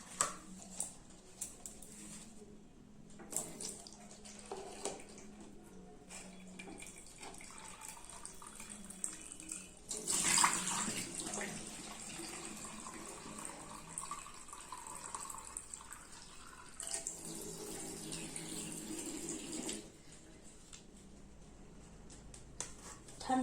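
Tap water running into a sink or basin, a steady splashing flow that swells louder in two stretches and then eases back, with faint drips and no talk.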